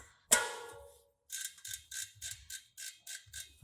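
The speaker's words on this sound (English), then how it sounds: "make sure that you're using the right freehub body, otherwise you will have binding in your system. Once when that's on, go ahead and reinstall it." A freehub body is reinstalled on a Ritchey bicycle wheel: a sharp metallic clack, then a quick regular series of close ratcheting clicks from the freehub as it is turned, quiet and without talk.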